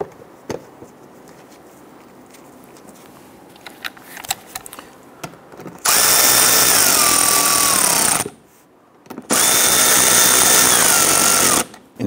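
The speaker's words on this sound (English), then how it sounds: "Get our lower screws installed." A power tool drives the lower screws while a 2011-2019 Ford Explorer AC condenser is installed. There are two loud, steady whirring bursts of a few seconds each with a short pause between them, following quieter clicks and handling noises.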